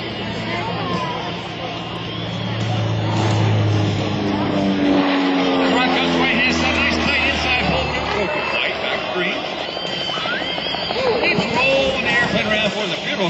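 A Lycoming IO-540 piston engine on an Italian-built SIAI-Marchetti SF-260 at an airshow drones loudly and continuously, its pitch shifting as it passes, while someone talks over it.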